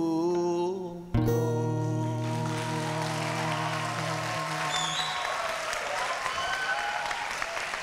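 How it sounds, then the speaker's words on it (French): Audience applause for a musician at an Afro music show breaks out as his final guitar chord rings out and fades, a sustained, fairly loud wash of clapping from a crowd. "Applaudissez encore"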